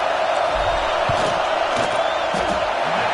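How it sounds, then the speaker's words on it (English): A dense, roaring football stadium crowd at an Oklahoma vs Tennessee game swells steadily as the field goal unit lines up, a continuous loud wall of voices with scattered whoops and bursts of cheering. "This crowd trying to do its part to get inside the kicker's head."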